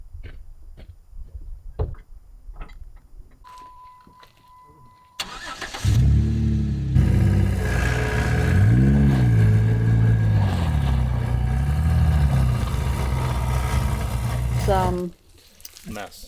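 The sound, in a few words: truck and trailer engine revving on ice and mud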